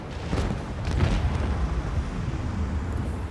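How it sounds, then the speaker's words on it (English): Macro cannons firing in the space combat of the video game Warhammer 40,000: Rogue Trader, a continuous low rumbling boom with a heavy blast near the start, rolling on steadily without speech. "Macro cannons, open fire!"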